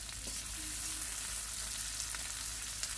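Shaved brisket laid over onions in a hot skillet, giving a steady, soft frying sizzle throughout with a few faint clicks of utensils.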